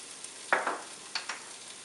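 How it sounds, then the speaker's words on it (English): Chopped canned potatoes browning with ground beef in a pan, a quiet steady sizzle punctuated by a few scraping stirs of a spatula. "we need to brown some of the potatoes"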